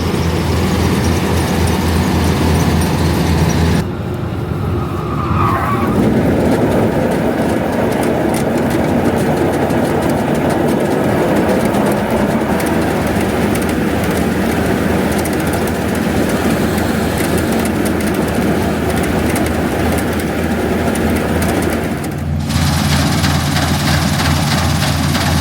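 A combine harvester runs steadily during harvest as a loud, continuous engine drone and mechanical rumble with no pauses, its tone shifting briefly at two points.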